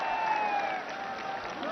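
An audience applauds loudly at a project inauguration ceremony in Mahoba, Uttar Pradesh, giving a dense, continuous wash of clapping with a faint tonal hum threading through the crowd noise.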